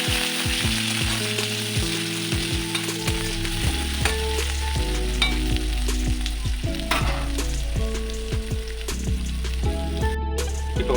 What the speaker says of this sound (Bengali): মশলায় পেঁয়াজ দিয়ে দিই